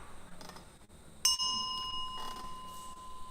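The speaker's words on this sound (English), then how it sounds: "Bell sound" A single bell in a Buddhist lecture setting is struck once, giving a clear ringing tone that sustains and slowly fades over quiet room noise.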